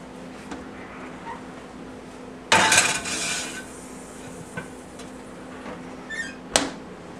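A metal tray of peppers slides into a hot oven with a sudden clatter and scrape, followed by a few softer clunks and one sharp bang as the oven door shuts, close and otherwise quiet.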